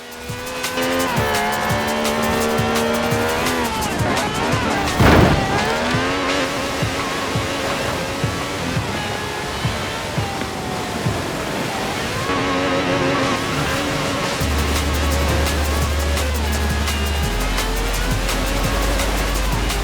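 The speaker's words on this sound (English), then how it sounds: "This has a V12 with over 750 horsepower, plus bucket seats" Racing in Forza Horizon 4 with a V12 car engine of over 750 horsepower, loud and steady, climbing through the revs and shifting gears, with tires squealing, and no talk.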